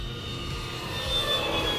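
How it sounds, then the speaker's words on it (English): An E-flite Draco RC plane with a 2.0 m wingspan, running on a 6S battery, cruises at about half throttle, its electric motor a steady, faint whine at a distance that swells slightly as it passes. "I'm flying on a 6S battery and I'm just cruising at about half throttle right now."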